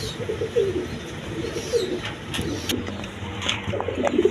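Male Rasgolla pigeon cooing, several close, repeated low coos spread through the clip over faint background noise.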